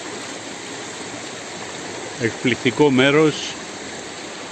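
Spring water flows steadily at Ano Kefalari near Drama, Greece, a constant soft rushing close by, while someone speaks briefly partway through.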